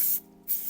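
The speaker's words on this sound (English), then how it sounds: "not until after I've sprayed it just with some olive oil spray" A single short burst of olive oil spray hisses into a loaf pan, a quick soft spritz lasting well under a second.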